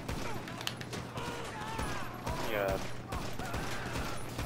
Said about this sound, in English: Gunfire! We're on the heavy fire!